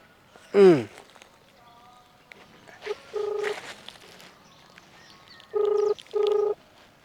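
Telephone keypad tones as the emergency police number 100 is dialed, a few short beeping key presses, the last two louder and evenly spaced, with a ringing-like tone earlier and sparse background sounds.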